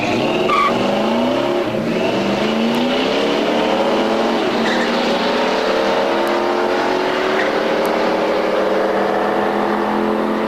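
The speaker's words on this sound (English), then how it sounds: "We're looking at Mike Marinkic's 1970 Charger RT 446 pack." A 1970 Dodge Charger RT with a 440 six-pack roars down a drag strip, its loud V8 engine sweeping steadily upward in pitch through the gears with faint tire noise underneath, close and unbroken.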